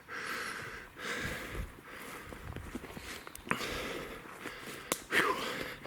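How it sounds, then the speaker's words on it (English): Heavy, wheezing breaths and snorts from a hiker out of breath after climbing a mountain, close and irregular with a few footsteps, fairly faint overall. "excuse me for my heavy breathing"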